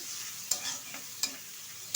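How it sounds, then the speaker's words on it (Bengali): Gentle sizzling of prawns frying lightly in oil, with a few sharp scraping stirs of a utensil against the pan. "চিংড়ি মাছটা কিন্তু বেশি ভাজতে যাবেন না"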